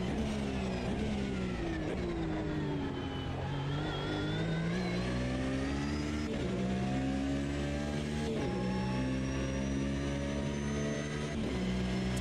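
Porsche 992 at speed on a race track, its engine revving up and down through repeated gear changes with a strong rising whine, heard from inside the car without talk.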